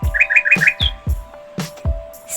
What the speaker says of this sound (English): B is for bird.